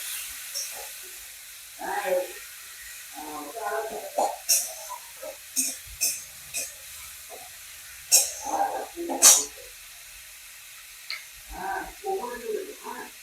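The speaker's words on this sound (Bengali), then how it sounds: "সামান্য একটু জল দিয়ে মশলাটাকে কষিয়ে নেবো" Ground cumin spice paste frying with a little water in a pan for a sweet-and-spicy eggplant dish gives off intermittent bursts of hiss and steam beneath a person speaking nearby.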